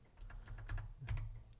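Close, crisp clacks from an 8-bit DOE mechanical keyboard, N edition, with a handful of quick keystrokes in two short runs, clear and unaccompanied.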